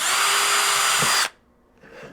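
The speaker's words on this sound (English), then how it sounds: "you can either click the button to reverse or just keep the drill bit spinning" A power drill driver spins loudly into wood with a sustained high whine, then cuts off abruptly, followed by a short quiet gap and a faint trailing sound.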